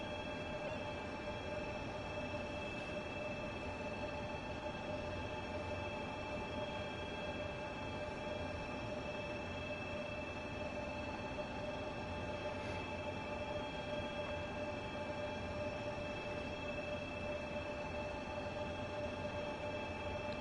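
A DB BR 187 electric locomotive running in Train Sim World 3 produces a continuous steady hum with faint tonal whines and rolling rail noise, even and unbroken throughout, with no talk.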